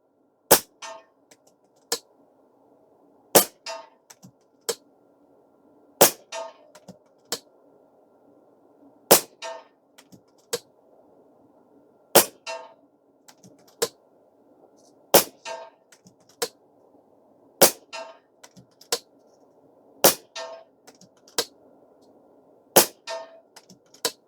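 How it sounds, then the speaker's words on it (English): An FX DRS PCP air rifle fires 40+ grain slugs from a magazine in about a dozen sharp, evenly spaced cracks, each followed by a faint distant impact or ring, with no talking. "I'll just shoot a couple rounds and show you that they do indeed cycle."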